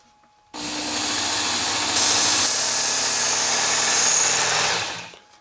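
A WorkSharp Ken Onion Edition belt knife sharpener runs steadily with a loud motor whine and belt hiss, starting abruptly, shifting tone partway as the blade meets the belt, then winding down near the end.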